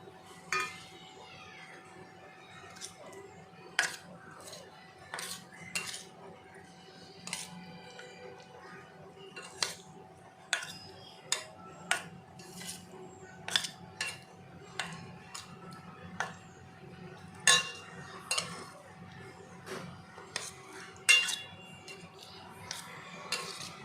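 Paneer pieces are stirred into marinade in a bowl, a spoon clinking sharply against the bowl's sides in irregular taps over about twenty-four seconds, quiet and close, with no talking.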